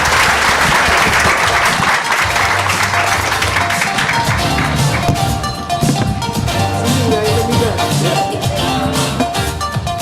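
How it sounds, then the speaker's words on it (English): An audience at a regional competition conference applauds panelists, giving sustained, full applause that settles into a steadier, slightly softer clapping in the second half, with faint voices underneath. "Please join me in a round of applause to our distinguished panelists."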